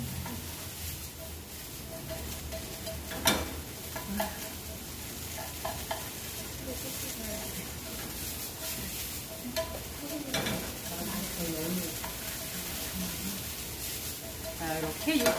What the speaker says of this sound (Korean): 우리 한쪽으로만 볶으실게요. 그래서 육즙이 조금 스며들게끔 볶아주시면 돼요.